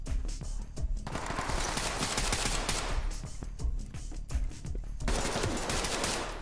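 Rapid bursts of gunfire in the tactical shooter Ready Or Not, with loud sustained automatic volleys broken by short pauses and no voices.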